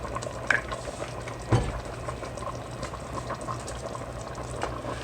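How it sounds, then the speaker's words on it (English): Egusi soup base of blended pepper, onion, seasoning cube and oil bubbles and sizzles steadily in a pot, a continuous close simmer with a brief clunk of a utensil. "I'm just going to let it all cook down."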